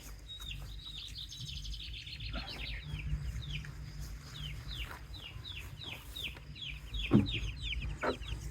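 Fifteen-week-old chickens cluck and chirp in a steady run of short calls, fairly close, over a low background hum, with a louder squawk near the end.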